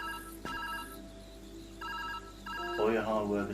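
A telephone rings inside the video game Viewfinder, in short repeated bursts of electronic ringing. A voice starts speaking over the final ring.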